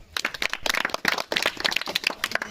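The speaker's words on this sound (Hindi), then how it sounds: "सेकेंड स्थान पर मुस्कान कुमारी है, इसके लिए ताली मारो सब" Audience at a school quiz contest clapping for the second-place winner, a burst of scattered, uneven claps from a small group lasting a couple of seconds with no talk over it.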